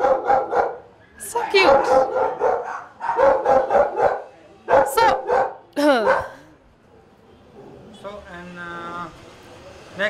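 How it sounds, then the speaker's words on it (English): Spaniel puppies and adult spaniels in a breeder's kennel give short yips and barks in bursts, close by, mixed with people talking softly over them throughout. "These are the spaniel, the parents of the spaniel."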